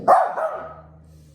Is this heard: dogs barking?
yes